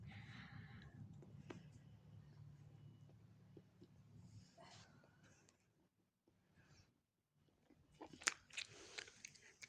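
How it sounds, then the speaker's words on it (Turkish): Crisp bites and chewing of sour food during a sour-face eating contest: quiet crunching early, then a pause and a sharper burst of loud crunches near the end. "Bir tane daha yiyeceğim."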